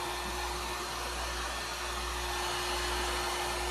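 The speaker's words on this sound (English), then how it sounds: "I will say that the blow dryer is safer." A handheld blow dryer runs steadily and close, a constant whooshing hum with a fixed whine, used to heat and shrink plastic shrink-wrap bags, with no voices.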